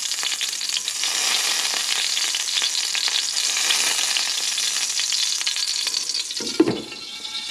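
Bacon strips, one side burnt crisp and the other still bendy, frying in a pan with a steady, dense sizzle that runs unbroken before a brief clatter and a quieter tail at the end.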